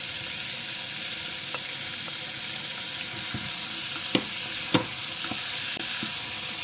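A ripe tomato dropped into a hot frying pan for an Italian tomato-and-basil spaghetti sauce, giving a steady, close sizzle with a few sharp crackles and pops scattered through it.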